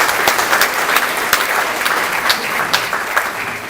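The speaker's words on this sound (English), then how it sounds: "A round of applause for this glorious cabinet." Town hall audience breaks into steady applause, a dense wash of many hands clapping at close range with a few sharper claps standing out, continuing unbroken without any voices on top.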